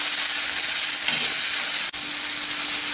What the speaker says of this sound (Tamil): இப்போ முட்டைக்கோஸ் நல்லா வதங்கிடுச்சு